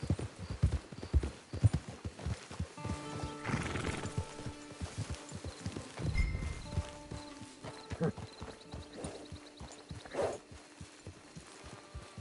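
Horse hooves clip-clop steadily in a PS4 video game near a camp, mixed with horse whinnies and game music, the rhythmic hoofbeats repeating through the whole stretch at moderate loudness.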